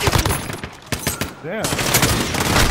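Video game gunfire, loud and dense, with bursts of rapid shots before and after a brief pause; a voice briefly speaks over it.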